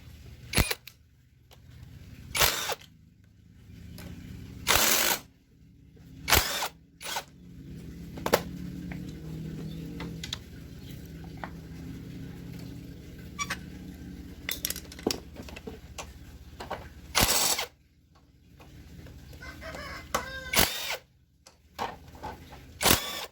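Hand tools click, rattle and scrape in bursts while the cylinder head is taken off a Suzuki Smash motorcycle engine that burns oil and fouls its spark plug, with sharp metallic clatters scattered through quieter stretches of work.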